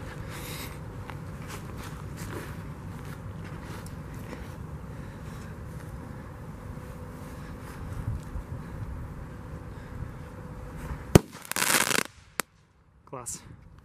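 Muffled rustling and talk give way to one sharp, loud bang of an Ispanka firecracker, followed by a short burst of noise and then near silence.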